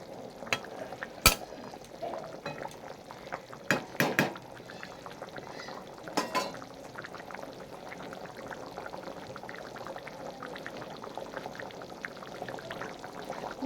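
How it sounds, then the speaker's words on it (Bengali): A pot of potato curry boils and bubbles on the stove with quiet, uneven blips and gurgles. A few sharper knocks and splashes stand out near the start, and nobody talks. "কেমন টকবক টকবক করে ফুটছে দেখছেন"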